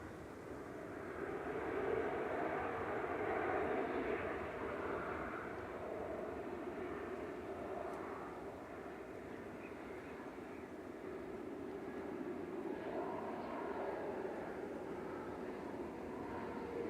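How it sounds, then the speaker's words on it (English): A Ryanair Boeing 737 MAX 8200, registration 9H-VVG, touches down at Manchester Airport after a flight from Palma de Mallorca, giving a steady broad engine and rumble roar at moderate distance that holds throughout with slight swells. "Ryanair 3469 from Palma de Mallorca. This is 9H VVG and Max 8200 touching down."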